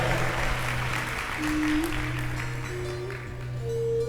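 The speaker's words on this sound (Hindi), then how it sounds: "ताली मत बजाओ" Audience clapping at a religious discourse, a continuous dense wash of applause from a large crowd, steady in level, with faint sustained musical tones underneath.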